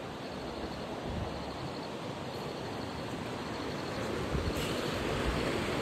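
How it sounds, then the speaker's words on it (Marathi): Broadband rushing of the Alaknanda river flowing at the Rudraprayag confluence, a steady, dense roar of moving water that holds an even level throughout with no voices over it. "आणि ही बघा, ही अलकनंदा नदी."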